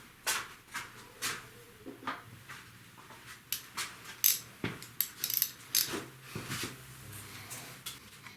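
A 3/8-inch drive ratchet snugs bolts on a 2006 Mercedes E350 W211 in rapid bursts of sharp metallic clicking, close and crisp, with brief pauses between strokes.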